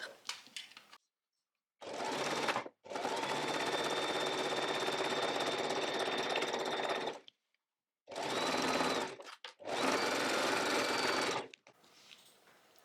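A sewing machine stitches a fabric pouch with a 1 cm seam, running in long steady bursts broken by short pauses, loud and close with no voices over it.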